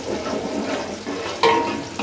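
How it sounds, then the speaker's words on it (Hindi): Garlic, ginger, cloves and cumin frying in oil for moong dal khichdi, a steady close hiss of sizzling with a brief sharper crackle and stir partway through, no talk. "इनको हमने बस ये चीज़ें डाल के 1 मिनट के लिए बस फ्राई करने हैं"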